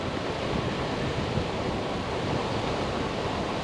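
Wind rushes steadily across the microphone while cycling along a canal, a dense, continuous roar with no pauses or voices.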